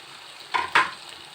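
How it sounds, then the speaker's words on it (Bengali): Rice and spices fried and stirred in a pan for a vegetarian Bengali rice and pointed gourd dish, heard as two short, close scraping stirs over a faint sizzle. "দেখো আমার চালটা ভাজা হয়ে গেছে, একদম মশলার সাথে লেগে গেছে।"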